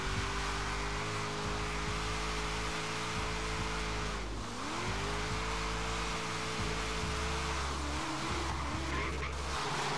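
A 1995 SVT Cobra Mustang drift build in Forza Horizon 3 drones with a steady, close engine note whose pitch sags twice and recovers, with faint tire squeal beneath.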